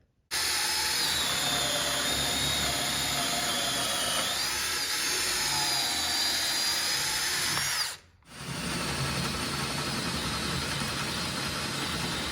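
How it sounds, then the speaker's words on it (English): A small drill bit whines steadily as it bores a pilot hole through an oak tenon on a timber frame brace, loud and close, then stops briefly and restarts for a few more seconds. "just take this small drill bit and put a pilot hole through"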